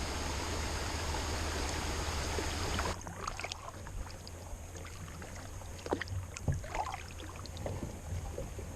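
A small brook flows into Windigo Lake in the Upper Ottawa Valley. Rushing water is loud for about three seconds, then drops to a softer trickle with scattered nearby splashes and drips.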